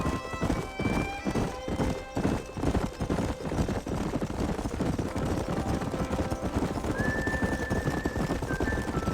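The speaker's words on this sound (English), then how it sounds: "There's the horses!" Horses gallop and neigh in a Red Dead Redemption 2 game scene, with steady clip-clop hoofbeats and several loud whinnies over continuous rumbling background, close and dense throughout.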